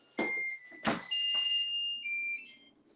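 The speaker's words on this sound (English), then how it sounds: "Not okay, the timer, y'all." Electronic kitchen timer beeping while shrimp cook, a loud high-pitched chirp sounding in two sharp bursts followed by a steadier sustained tone, close by with no talking.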